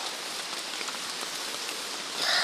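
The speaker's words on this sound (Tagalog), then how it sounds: "Napakalakas ng ulan." Very heavy rain pours down in a steady, dense roar, loud and close, with no voices and a slight swell in intensity near the end.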